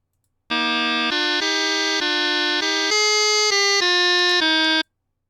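Playback from music notation software of a Highland bagpipe tune, a bright reedy synthesized tone that steps through about ten sustained notes for roughly four seconds and then stops abruptly.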